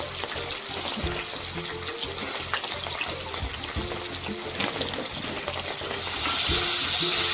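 A katla fish head sizzles in hot oil, a dense, even crackle and spatter with small irregular pops, growing a little louder toward the end.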